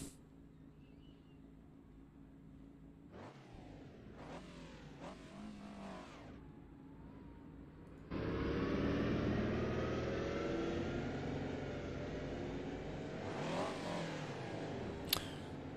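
Mercedes 190 EVO2 race car engines in the rFactor 2 racing game, warming up at the Norisring. Engines rev in short sharp bursts, then one car accelerates hard into a sustained, loud, rising drone with further revving near the end.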